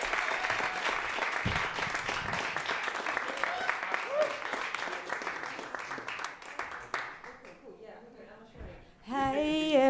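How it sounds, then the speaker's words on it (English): Audience applause for a performer taking the stage at a screening event, steady clapping filling most of the stretch and then fading, with a voice speaking over it near the end. "Keep clapping. Keep clapping."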